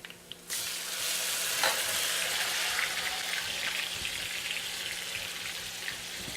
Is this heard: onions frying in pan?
yes